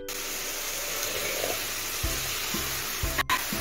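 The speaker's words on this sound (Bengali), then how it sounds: "ফুলকপি ভাজছি পেঁয়াজ দিয়ে" Cauliflower fries with onion in a pan, a continuous broad sizzle close by, punctuated by a few low knocks and a sharp clatter near the end.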